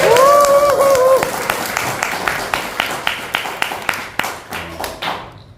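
An audience at a church forum lecture claps in a steady, evenly spaced rhythm that gradually fades and stops, following a brief voice at the start.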